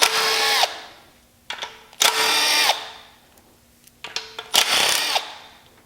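Three loud, steady bursts from a power tool running out 10mm oil pan bolts on a Chrysler 3.2/3.6 Pentastar engine, each lasting about half a second to a second, separated by brief quiet gaps and small clicks.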